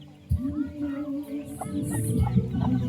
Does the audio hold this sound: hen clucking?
yes